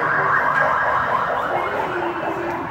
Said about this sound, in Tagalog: And then, kanya pong horn. Ayan, malakas po yung kanyang horn, mga riders.